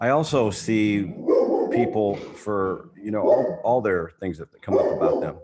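A chocolate Labrador barks in short bursts during a school board meeting, mixed in and partly masked under someone speaking steadily into a microphone.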